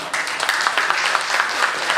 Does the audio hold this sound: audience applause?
yes